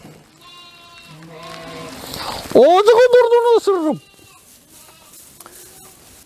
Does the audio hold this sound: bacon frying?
no